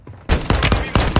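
Loud, close automatic gunfire in Call of Duty Warzone rattles off in quick bursts after a brief quiet start, with several sharp cracks in rapid succession.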